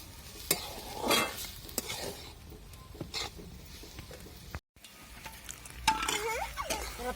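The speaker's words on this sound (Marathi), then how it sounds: "कांदा आणि जो आपले टमाटे आहे ते नरम होतील पटकन आणि याला चांगलं पाच मिनिट असं आता परतून द्यायचं" Onion and tomatoes sauté in a pan for matar paneer, a continuous soft sizzle under frequent stirring and scraping clatter, with a brief drop to near silence midway.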